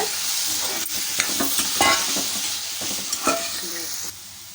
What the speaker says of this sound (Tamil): நாலு பழுத்த தக்காளி பழத்தை கட் பண்ணி வச்சுருக்கோம் உள்ளே சேர்த்துடலாம் தக்காளியோடு சேர்த்து கலந்து விட்டுக்கோங்க